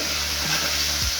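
Chopped tomatoes fry in a pan with a steady sizzling hiss throughout, broken by one or two soft scrapes of a spoon stirring them, close and fairly loud, with no talking.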